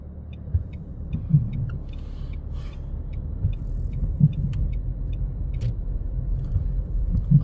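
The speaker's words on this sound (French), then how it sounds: "On accélère, tu nous mets une deuxième" A manual-transmission car accelerates during a driving lesson, its steady low engine rumble rising and falling with a few soft thumps, heard from inside the cabin with no talk.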